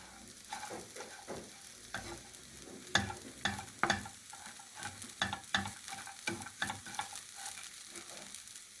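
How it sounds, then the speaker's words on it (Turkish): Sugar and walnuts roast in a pan under steady stirring, a soft sizzle broken by repeated scraping strokes, close and fairly quiet, with no one talking. "kavurduktan sonra şekerimizi katıyoruz. Tekrar kavurmaya devam ediyoruz."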